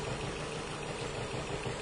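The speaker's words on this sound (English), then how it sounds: "This engine is not running very well at all right now." A car engine with a misfire runs rough at idle, giving a close, steady droning rumble with a faint uneven vibration throughout, and no voices.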